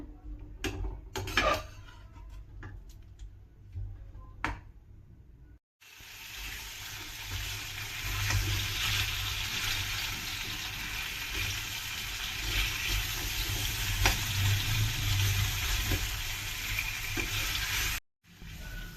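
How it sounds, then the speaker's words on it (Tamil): Potatoes tossed with masala in a pan for a Tamil home-style potato fry. A few stirring scrapes come first, then a steady, loud sizzle of frying that runs on continuously with no voices. "இப்போ ஆட் பண்ண பொட்டேட்டோவை நல்லா மசாலா எல்லா இடத்துலையும் இறங்குற மாதிரி ஒரு மிக்ஸ் பண்ணிக்கோங்க."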